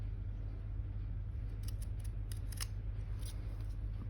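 Scissors snipping and trimming paper while making a journal belly band, with several quick, crisp cuts in the middle over a steady low hum of room noise.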